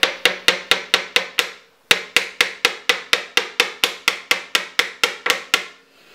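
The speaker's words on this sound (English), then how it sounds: "tap the jaws and get your run out a lot better" A lathe's three-jaw chuck jaws are tapped with a piece of aluminium: a quick run of about seven crisp, evenly spaced knocks, a short pause, then roughly a dozen more at the same steady rhythm, close and clear.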